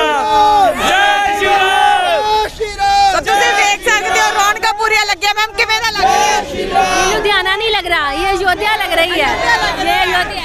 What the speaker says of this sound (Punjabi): ਲੁਧਿਆਣਾ ਸ਼ਹਿਰ ਵੀ ਜੈ ਸ਼੍ਰੀ ਰਾਮ ਦੇ ਜੈਕਾਰਿਆਂ ਦੇ ਨਾਲ ਗੂੰਜ ਰਿਹਾ